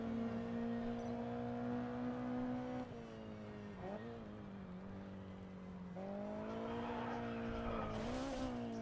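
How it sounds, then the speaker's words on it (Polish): A car in the racing game Grid Autosport sits on its rev limiter, giving a loud, steady, buzzing engine drone whose pitch wavers and dips briefly before climbing again, alone without talk. "Odcinanie jest niesamowite w tym aucie."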